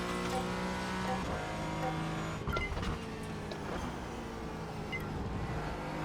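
A simulated race car engine drones steadily in iRacing, the pitch holding and shifting as the throttle is worked, with a brief thump and dip midway, heard close and alone without voices.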